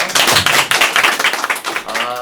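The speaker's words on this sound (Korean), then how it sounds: "거기 한 박수 한번 주시죠" Audience applause at a Korean talk show discussion on digital connectivity, a dense burst of many hands clapping close and loud, with a voice faintly under it.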